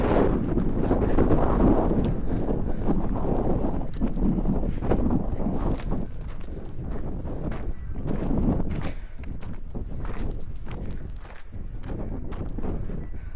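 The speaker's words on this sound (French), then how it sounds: "Il y a beaucoup plus de vent" Strong wind buffets the microphone at a high, exposed spot above Marseille, a loud continuous low rumble with gusts rising and falling throughout, no talking.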